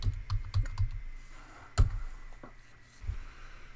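Short burst of keystrokes on a computer keyboard, a quick cluster of clicks followed by a couple of isolated taps, close and fairly quiet with no voices.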